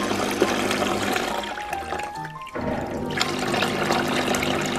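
A washing machine draining dirty grey water, a steady rushing, gurgling flow that sounds close, briefly dips quiet in the middle and then surges again, with no talk over it.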